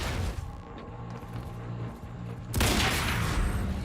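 Gunfire in the Quantum Break video game: a rattling burst of shots under a low hum, then a sudden loud, dense blast of firing near the end, close and harsh.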